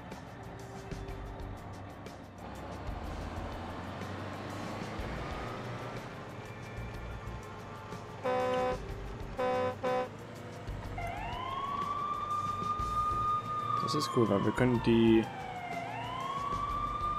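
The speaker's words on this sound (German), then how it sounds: "wir können die Sirenen anmachen und dann gehen die uns aus dem Weg" Police car sirens in the SimCity 4 Deluxe video game wail in rising and falling sweeps over engine and game noise, with short horn-like blasts just before, while someone talks over it.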